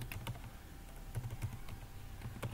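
A computer keyboard is typed on at a quiet, moderate pace, with soft irregular key clicks close by and no voices.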